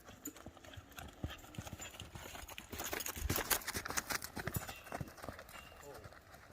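A horse trots in training, its hoofbeats clip-clopping in a steady rhythm at moderate distance, with a person talking over them.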